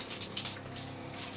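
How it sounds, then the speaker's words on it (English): Water poured from a container into a roasting pan of lamb shanks, a steady splashing, gurgling pour, close and fairly quiet, running continuously for the whole moment with no talk. "Can you just help me pour this water in?"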